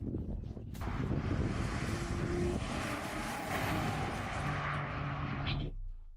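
An airplane engine drones loudly overhead for several seconds, a broad steady roar that fades out at the end.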